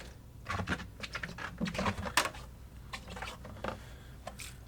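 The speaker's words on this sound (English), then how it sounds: "So just scraping out the last of this." Leftover worm castings are scraped out of a Vermibag Max bin in a rapid run of soft, close scratching and squishing strokes in an irregular rhythm.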